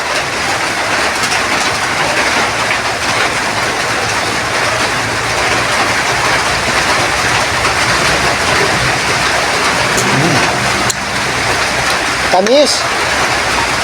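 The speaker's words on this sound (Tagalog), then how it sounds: "Maulan, lakas ng ulan." Heavy rain pours steadily as a loud, dense, hissing roar that never lets up, while a person eats green mango with bagoong. A voice speaks briefly over the downpour near the end.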